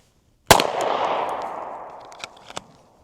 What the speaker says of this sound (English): So let's do a few shots here just for the heck of it.